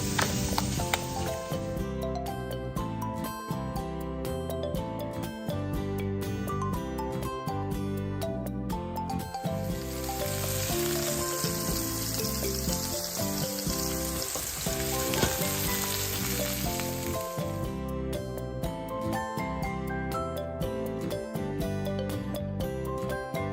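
Thin radish chips frying in a pan with a steady crackling sizzle, loud and continuous, swelling brighter through the middle stretch with occasional stirring clatter.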